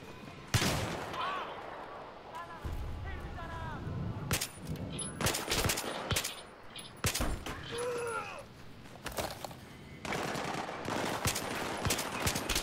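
Gunfire in Battlefield 3, sharp separate shots and short automatic bursts cracking at irregular intervals, with occasional bleating-like game sounds and a quiet background between the volleys.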